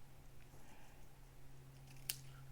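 Scissors make a single faint, crisp snip through polished pink open weave ribbon in a quiet room with a low steady hum underneath.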